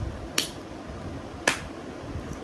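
Two sharp, isolated hand claps about a second apart, crisp and moderately close, standing alone over a quiet room background.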